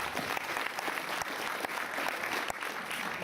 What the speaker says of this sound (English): we'll give her a round of applause anyway